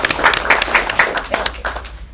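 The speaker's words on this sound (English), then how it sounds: "Round of applause for Mr." Brief applause from an audience at a philanthropy event, a loose burst of clapping with a few louder peaks that carries on steadily for a couple of seconds.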